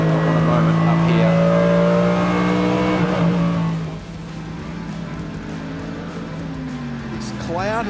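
A race car on track runs in third gear with careful, restrained throttle, its engine note rising and then easing off, while an excited commentator talks throughout over the mid-level motor drone.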